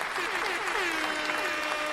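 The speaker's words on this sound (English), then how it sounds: "Clap it up for Kenny." Brief burst of audience clapping, a dense even patter over a couple of seconds with faint tonal sounds mixed underneath.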